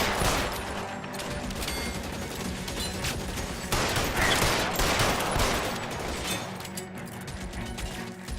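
Dense, sustained gunfire from a shootout in the video game L.A. Noire, a continuous loud fusillade of rapid overlapping shots and bursts with no pauses.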